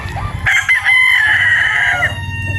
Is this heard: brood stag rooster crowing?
yes